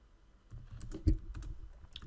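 Brief, quiet tapping of keys on a computer keyboard while typing into a Microsoft Word document, a short scattered burst of soft clicks with one slightly louder strike, heard alone at close range.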